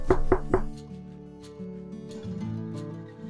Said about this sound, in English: At the door she knocks.